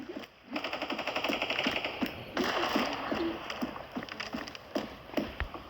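Rapid bursts of automatic gunfire in a video game crackle back and forth, repeated shots stuttering in quick rhythm with brief pauses, loud and close, with no talking.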